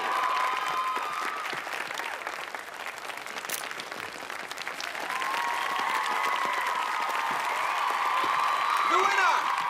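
A crowd at an outdoor arena applauds and cheers a prize winner, dense steady clapping with scattered whoops and shouts that swell louder in the second half and continue without pause.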